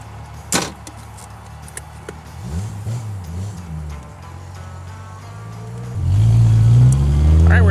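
A 1968 Triumph TR250 British sports car starts off: a door thud, then a low engine idling with faint voices nearby, before the revs climb into a loud, steady pull away.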